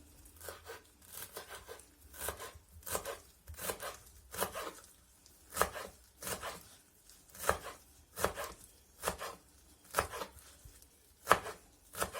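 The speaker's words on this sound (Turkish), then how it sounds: "de maydanozlarımı doğruyorum" Parsley being chopped with a knife on a board for a seasonal lettuce salad, with steady rhythmic cuts, about two per second, close and crisp with no talking.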